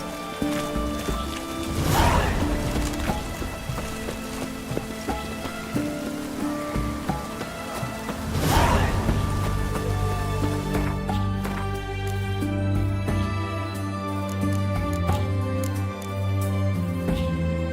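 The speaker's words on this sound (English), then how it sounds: "What a downpour." Heavy downpour drenching the world of The Witcher 3, a steady broadband wash of rain with two brief louder bursts, later joined by low sustained musical tones.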